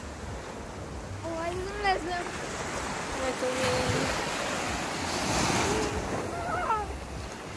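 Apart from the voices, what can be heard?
sea waves on the beach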